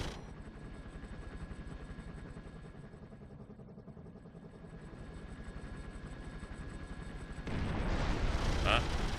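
Turret gunfire in the video game 24: The Game, a steady stream of rapid rumbling shots under continuous game noise that swells louder near the end, with a voice talking over it.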